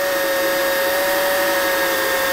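A power drill with a dull bit runs continuously at high speed, boring holes in a workshop build project, a loud steady whine with a sustained tonal hum and no pauses or talk.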